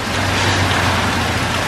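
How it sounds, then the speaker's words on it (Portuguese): Heavy rain pours in a loud, dense and steady hiss, unbroken and close, with no voices over it. "Tá chovendo muito aqui."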